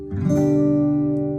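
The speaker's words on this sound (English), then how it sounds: "and then you'll do a nice strum." A single acoustic guitar strum rings out clearly, its chord sustaining evenly and slowly fading, with no voices.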